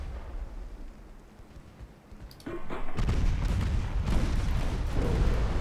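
Naval combat video game with a torpedo salvo launching and striking, a low rumbling hiss building into a loud sustained roar of explosive booms and crackling impacts that swells and continues to the end.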